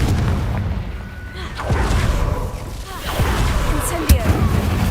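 The Confringo fire-blast spell in the game Hogwarts Legacy, with booming explosive bursts and crackling impacts over a busy combat soundscape, one sharp loud hit standing out near the end.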